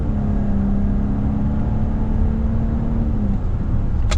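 A 2025 Volkswagen Atlas SEL in sport mode accelerates with paddle shifting, heard from inside as a loud steady engine drone with a rising tone that drops near the end, like an upshift.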